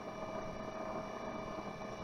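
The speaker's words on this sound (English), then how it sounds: "At minimum the cooler sounds like this" Gigabyte CPU cooler fan running at minimum speed, a steady, even whir with a faint tonal hum, close and constant with no voices.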